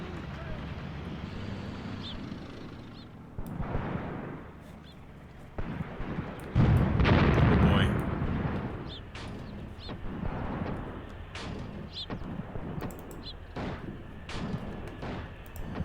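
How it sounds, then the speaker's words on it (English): Enemy artillery strikes in a WW2 desert battle video game, several booming impacts and a heavy rumbling blast amid wind and distant gunfire, with someone talking over it. "And a lot of enemy artillery strikes."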